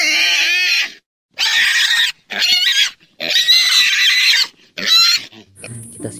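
A pig grunts and squeals in loud, close bursts with short gaps between them, a toy-like tone sounding at the very end, while children's muddy farm animals are being washed.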